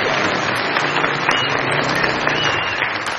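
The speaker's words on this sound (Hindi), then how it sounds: "बहुत सारी तालियां रियासत अली साहब के लिए।" Sustained studio audience applause on a Pakistani comedy talk show, a dense, steady roar of many clapping hands filling the room at even loudness throughout.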